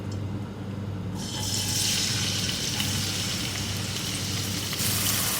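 Chopped medium onion frying in a quarter cup of oil in a kadhai, a steady close sizzle with a bright hiss that swells after the first second and holds evenly throughout.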